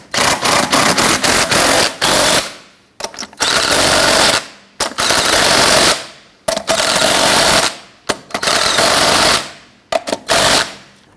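Pneumatic impact wrench snugging lug nuts on a 1999-2004 Jeep Grand Cherokee wheel: loud rattling hammering bursts of about a second each, repeated several times with brief pauses between, close up.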